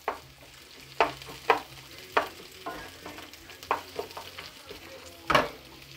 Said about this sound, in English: It's just frying up all this stuff